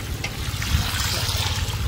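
Chicken cooking water is strained while making chicken maqlooba, giving a steady trickling, splashing flow close by with a low rumble underneath and no talk.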